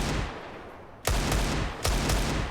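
Rapid gunfire in a professional Counter-Strike esports match, with guns shooting through smoke. It comes as loud, sharp bursts in a dense volley, then two strong onsets and continued rattling fire.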